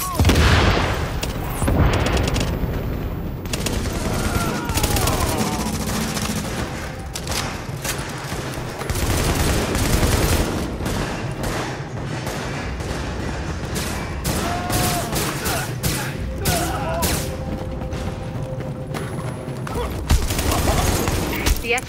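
Sustained bursts of heavy automatic gunfire and booming shots fill a rooftop firefight against a gunner in The Division video game, loud and nearly continuous, with game voices talking over the battle at times.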